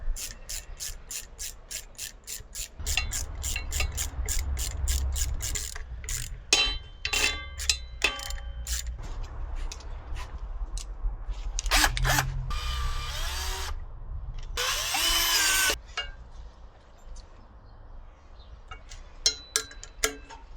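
Screws are driven to fasten the front disc back onto a scooter wheel, with rapid ratchet clicks, bursts of a power driver whirring and metallic ticking, close and loud with pauses between passes.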